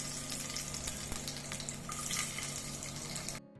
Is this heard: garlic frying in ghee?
yes